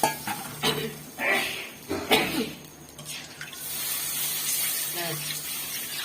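Water poured into a pan of fish curry after the spices are cooked down, a splashing gush with clinks of the pan at first that settles into a steady pour.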